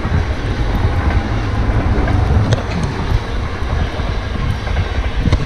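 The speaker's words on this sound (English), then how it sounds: "The train, did you miss it?" A train rolls past nearby in snowy weather, giving a loud, continuous rumble and rattle of wagons that holds steady throughout with no talking.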